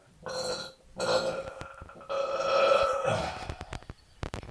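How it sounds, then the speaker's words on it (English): Several loud, drawn-out belches, one after another, come from a person doing yoga, with short pauses between them and a few sharp knocks and shuffles at the end. "really moved from the farts into the belching"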